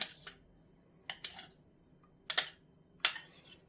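A knife finely chops cold 82% butter on a board, giving four sparse groups of short, crisp taps and clicks with quiet gaps between them, fairly faint and close.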